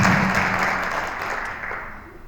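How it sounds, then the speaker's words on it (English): An audience applauds at a program launch event in Ethiopia, a dense wash of clapping that starts strong and gradually fades over about two seconds, with no talk over it. "let's give them a big clap."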